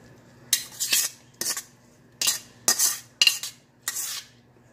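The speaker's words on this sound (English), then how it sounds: "Get it all stirred around." A spoon scraping and clinking against a pot while stirring chicken pot pie filling, six separate bursts of scraping strokes in an uneven rhythm, close and fairly loud, with no voices.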